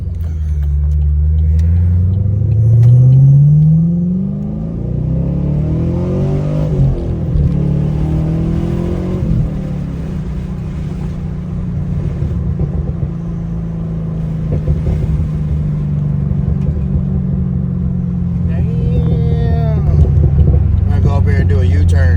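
A Chrysler car cruises along the road with a steady engine rumble and a rising rev early on, while someone talks over the driving noise throughout.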